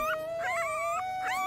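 A high, drawn-out whining cry from newborn puppies, rising and bending in pitch over a steady tone, close and fairly loud.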